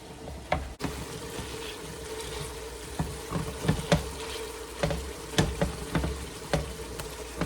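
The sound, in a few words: hamburger meat sizzling as it is broken up for chili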